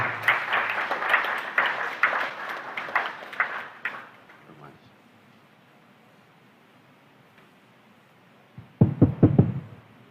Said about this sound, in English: let's welcome, with a round of applause, Professor Obing Miracle